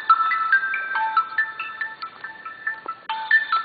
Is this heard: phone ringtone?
yes